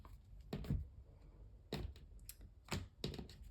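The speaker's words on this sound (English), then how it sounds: "one more shuffle, then we'll cut the deck" A tarot card deck being shuffled makes soft, close, crisp tapping and riffling bursts. There are about five brief clusters separated by quiet pauses, with no talking.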